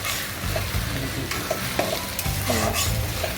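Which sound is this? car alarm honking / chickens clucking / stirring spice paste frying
stirring spice paste frying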